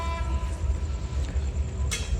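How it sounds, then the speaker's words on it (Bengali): A passenger train rolls slowly along the track near Shyampur in Dhaka, a steady low rumble with rhythmic wheel thumps and a brief hiss near the end. "এই ট্রেনটি বেশ ধীর গতিতে এখন পর্যন্ত চালিয়ে আসছে"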